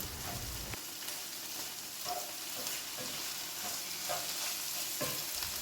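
Beaten eggs poured over nearly cooked beans in a frying pan, giving a steady close sizzle with faint stirring and scraping taps throughout, no voices.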